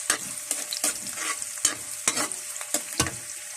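Aromatics stirred in a hot pan for a mung bean dish: repeated scraping strokes at an uneven rhythm over a steady sizzle, close and fairly loud, with no voices.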